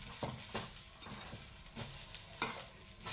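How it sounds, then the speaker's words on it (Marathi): Grated coconut being roasted in a pan for burfi, with repeated scraping stirs of a spatula against the pan at a steady rhythm over a soft, continuous sizzle, heard up close. "असं थोडंसं भाजून घ्यायचं."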